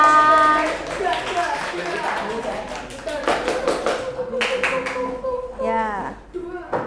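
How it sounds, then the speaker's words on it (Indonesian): Classroom applause for a presenting student group: a burst of hand clapping from children, mixed with chatter and voices calling out, fading as talk takes over. "Beri tepuk tangan untuk kelompok 1"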